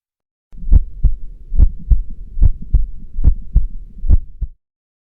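A heartbeat sound effect thumps in a steady series of deep, loud pulses, some landing as close double beats, standing alone with no voices over it.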